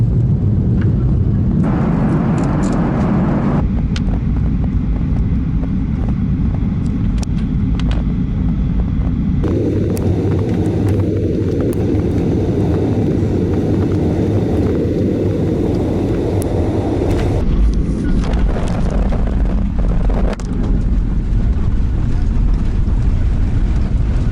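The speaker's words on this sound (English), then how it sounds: "We have landed in Cairo" An Egypt Air plane lands at Cairo, heard from inside the cabin as a loud, continuous roar of engines and rushing air that shifts in tone and level through touchdown and rollout.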